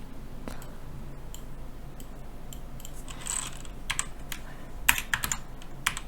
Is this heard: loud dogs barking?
no